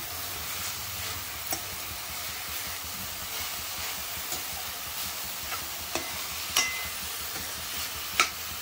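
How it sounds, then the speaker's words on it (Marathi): Modak filling stirred in a pan on the stove, a steady scraping and sizzling texture with soft clinks of the spoon against the metal, close and continuous with no talk. "मिक्स करत राहायचं, कारण तळाला चिपकू शकते ते।"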